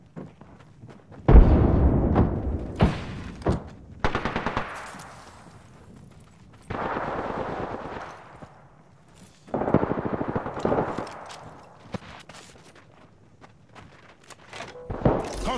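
Gunfire in the Apex Legends video game, with loud bursts of shots in several separate volleys and quieter game sounds between them.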